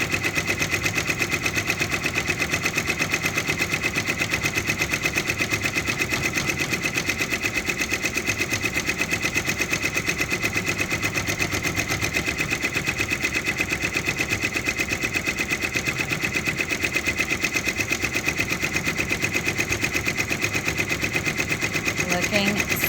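A Baby Lock Endurance II six-needle embroidery machine stitches at high speed, a rapid, even mechanical chatter that runs unbroken and close by for the whole stretch.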